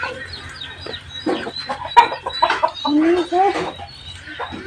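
Chickens clucking close by on a farmyard in Assam, several birds giving irregular bursts of clucks and squawks, with a voice talking faintly underneath.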